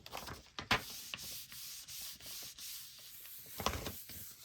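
Soft, steady rubbing and scraping over lace laid on a gelli print, with a few sharper strokes standing out, close and fairly quiet with no talking.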